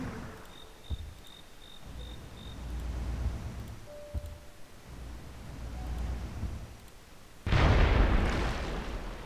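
Naval bombardment by heavy cruisers in Civilization III, a WW2 England scenario, with scattered booms and crackling bursts. A loud, dense explosive blast arrives near the end over faint chirping ambience.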